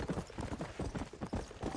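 Horse hoofbeats from riding in the video game Red Dead, a steady rhythmic clip-clop of repeated close, moderately loud strikes.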